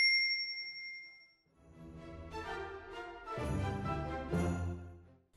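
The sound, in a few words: notification bell ding sound effect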